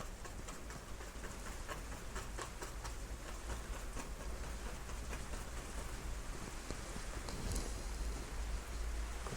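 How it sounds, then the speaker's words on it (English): Steady rain falls outside a studio at night, a soft continuous patter and hiss with occasional sharper drips, even and unbroken throughout with no voices. "Could you hear the rain here tonight?"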